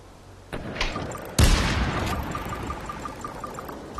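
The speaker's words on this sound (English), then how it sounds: "We trade shots and both miss." Gunfire exchanged with an S85 and an SBR in the VR shooter Population: One: a sharp shot at about half a second, then a louder blast with a decaying reverberant tail, no talk.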